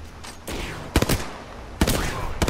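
Gunfire in Apex Legends: a couple of sharp nearby volleys of rapid shots about a second apart over a rumbling background, loud and close.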